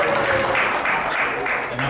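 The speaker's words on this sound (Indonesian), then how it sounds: "Tepuk tangan buat negara kita" A church congregation at a Sunday service applauds in a brief burst of dense, steady clapping that fills the room, with a voice faintly present beneath it.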